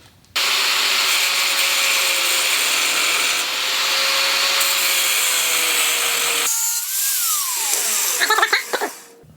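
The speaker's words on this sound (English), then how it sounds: "now I'm gonna go ahead and use our little angle grinder here and" A small angle grinder cuts through steel pipe for a custom motorcycle frame, a loud, steady, high-pitched whine that runs for several seconds, shifts tone partway through, then winds down with a few rattling bursts at the end.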